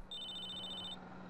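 A phone rings in the GTA San Andreas video game, a single bright electronic trill lasting under a second, fairly quiet, with a faint hum beneath and no talking.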